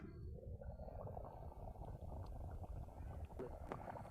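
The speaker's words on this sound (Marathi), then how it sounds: "ते तर खूप मस्त उकळायला लागले" Crab curry bubbling in a covered pot over a village wood-fired stove, a steady low churning boil with faint lid rattles, continuous and close throughout.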